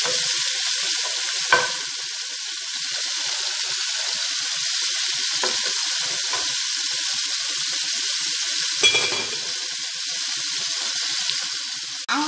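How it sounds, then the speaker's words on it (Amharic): Beef or lamb frying with onions in a pan for Arab-style okra and meat stew: a steady close sizzle throughout, with a few brief louder pops and stirring clatters. "ከዛ ስጋውን ማለት ነው ጠብስበታለሁ።"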